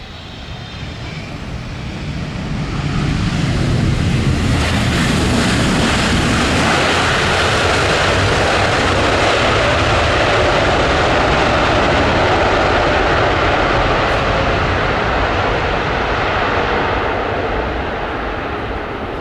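China Airlines airliner landing on runway 07 at Tan Son Nhat airport, with a roaring engine and rushing air that swell over a few seconds, hold loud and steady, then ease slightly as it rolls out.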